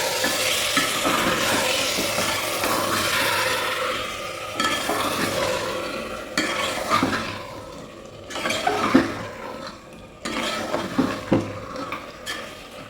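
Marinated mutton pieces are stirred into a sizzling masala in a pan for a curry. A spoon scrapes and clatters against the metal in repeated strokes over steady frying, close up, with no voices.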